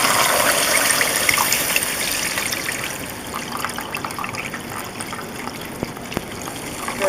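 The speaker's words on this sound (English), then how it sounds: "now we're going to add beef broth" Beef broth poured into a cooking pot, a steady gushing liquid stream that gradually softens, with a couple of small clinks near the end, close and alone.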